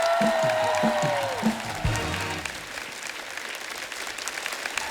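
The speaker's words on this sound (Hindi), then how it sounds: "एक बार खुल के तालियां हो जाए हमारे मेहमानों के लिए।" A studio audience applauds guests on a Hindi comedy show, dense clapping that swells and then tapers off, while a host's voice sings out briefly over the start.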